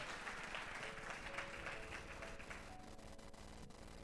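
A church congregation claps together, a dense, continuous patter heard from a middle distance. It stays steady throughout, then thins slightly toward the end.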